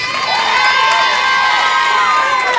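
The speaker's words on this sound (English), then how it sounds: "Right, give them all a big," Children in a crowd whoop and cheer loudly for a group of contestants at a game-show style event, a dense, sustained wall of high shouting voices.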